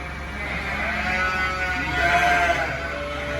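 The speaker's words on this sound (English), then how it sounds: "This is one of our lambs. It's a ram lamb." A nine-week-old ram lamb bleats in a drawn-out, wavering cry that carries steadily for several seconds, close by and fairly loud, at weaning time on a farm.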